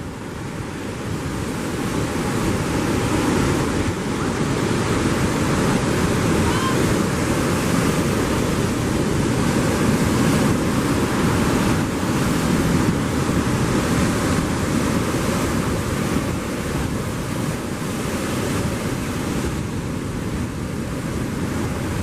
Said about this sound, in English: The waves pushing in, the current pushing out just after high tide.